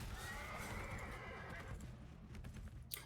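A horse in the video game Diablo Immortal gives a drawn-out whinny that fades after about a second and a half, leaving softer game noise behind.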